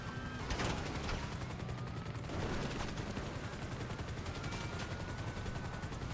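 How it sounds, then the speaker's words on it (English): A minigun in the GTA Online video game fires in one sustained, loud, rapid-fire roar that continues steadily throughout with no talking. "But I'm guessing this is just a minigun."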